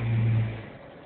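A rental Jeep's engine revs hard and strains while climbing an off-road hill, loud and close at first, then easing off and fading.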